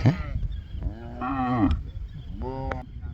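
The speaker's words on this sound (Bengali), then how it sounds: "উত্তরের চরের মানুষদের সবচেয়ে বড় সম্পদেই গরুগুলোই গরুর পাল ধুলা উড়ে যাচ্ছে" A herd of cattle on a river char in northern Bangladesh gives two or three long, low moos close by, separated by quiet gaps, with faint rustling in the background.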